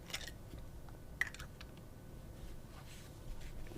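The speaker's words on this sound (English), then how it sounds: "Writes very nice, smooth, just a little hint of feedback, but just because that's a kind of a medium nib" Sailor Pro Gear fountain pen with a medium nib writing on paper: soft, faint scratchy strokes and small ticks close up in a quiet room.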